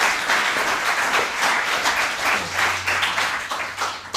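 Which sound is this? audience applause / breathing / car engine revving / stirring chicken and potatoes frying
audience applause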